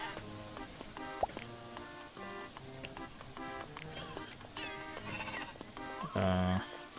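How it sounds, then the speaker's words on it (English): Sheep bleating in the shop-management video game Discounty, several short harmonic bleats repeating over a busy game soundtrack with soft clicks and squishy effects, plus one louder bleat near the end. "There's a sheep."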